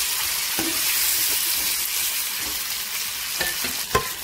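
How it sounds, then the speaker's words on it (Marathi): Eggplant frying in hot oil tempered with mustard seeds and curry leaves: a loud, continuous sizzle up close, with occasional stirring knocks and scrapes. "तर वांगे असे तेलात छान असे फ्राय करून घ्यायचे"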